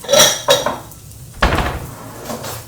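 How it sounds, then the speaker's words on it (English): Dishes being handled in a kitchen while a bowl and fork are picked up, a few close ceramic and metal clinks and knocks spaced over a couple of seconds, no talking. "And I'm going to grab a bowl."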